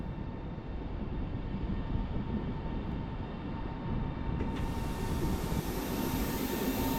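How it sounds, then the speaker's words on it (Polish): An Express Intercity Premium train departs Warszawa Wschodnia station for Bielsko-Biała Główna, a continuous rolling rumble with a steady hiss that brightens slightly toward the end, moderately distant. "rusza Express Intercity Premium do stacji Bielsko-Biała Główna z numerem pociągu 1400"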